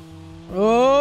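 Vehicle engine in BeamNG.drive, idling low then rising sharply midway into a loud, climbing rev as it tries to gather speed through mud, close and alone.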